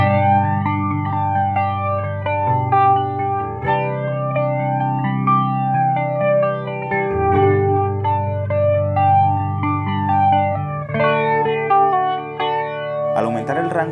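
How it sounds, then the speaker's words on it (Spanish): An electric guitar runs through an ISET flanger pedal at standard settings, playing a continuous melodic line with a sweeping, whooshing modulation and slight grit, loud and close, with no voices. "Así suena este pedal con todos los controladores en posición estándar."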